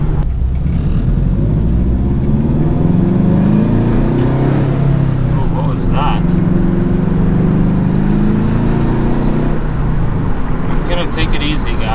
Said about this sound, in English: because the car is still warming up